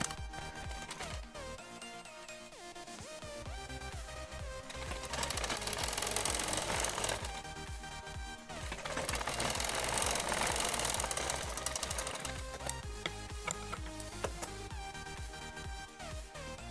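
A sewing machine stitches piping onto an umbrella frock, a dense rapid mechanical rattle running continuously and loud, surging faster in two long bursts, with no talk.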